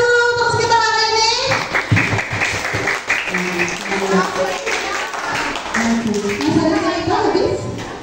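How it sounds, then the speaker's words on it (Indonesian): Children clap hands together at a Quran study group (TPA), a lively burst of uneven clapping mixed with kids' voices and an adult talking over it. "Tepuk tangan dulu untuk kita hari ini."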